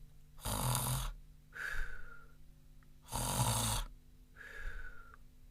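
A voice imitates snoring: two cycles of a loud rasping inhale followed by a softer whistling exhale, close and alone.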